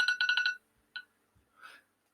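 A phone rings in a short burst of rapid electronic trills, followed by a single chirp and a fainter warbling tone, alone and fairly quiet.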